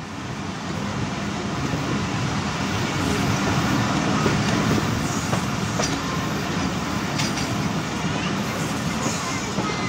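A Millat Express passenger train approaching Jahaniya railway station, a steady, broad rumble of wheels and carriages running continuously throughout with faint clatter, no voices heard.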